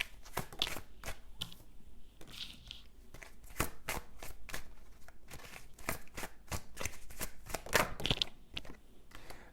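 Tarot cards being shuffled close by, repeated riffling and soft slapping bursts in an uneven rhythm, fairly quiet and heard alone without speech.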